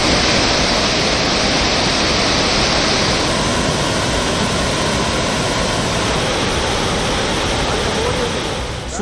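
Flood waters pour over Thirparappu waterfall in Kanyakumari district, a dense, steady, full roar of rushing water that stays loud and unbroken throughout with no voices.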